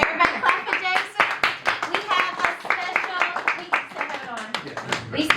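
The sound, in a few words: audience clapping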